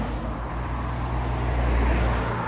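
Road traffic rumbles past nearby, a steady low roar of cars passing with a slight swell toward the end, no voices.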